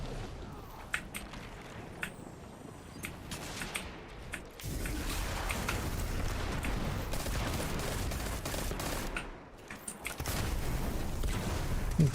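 Golden Gun super fire in a Destiny-style shooter: quiet, scattered shots and rapid gunfire bursts amid game effects, then a denser, louder stretch of shooting and impacts near the end.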